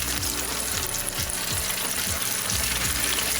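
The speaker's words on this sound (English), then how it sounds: "we're gonna use our clean hand to lower the beef into the deep fryer. We're cooking the steak at 180 degrees." Beef steak deep frying in oil at 180 degrees gives a loud, steady, dense sizzle and bubbling that fills the whole clip without pause.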